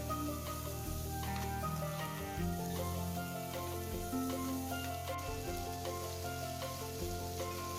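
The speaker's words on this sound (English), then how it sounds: "Now we're cooking this until it becomes translucent" Aromatics for butternut squash soup fry in a pot until translucent, giving a steady, even sizzle throughout over a faint tonal background hum.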